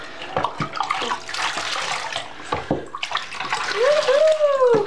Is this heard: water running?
yes